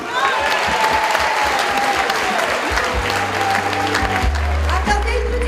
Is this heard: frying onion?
no